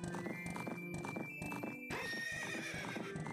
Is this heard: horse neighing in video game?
yes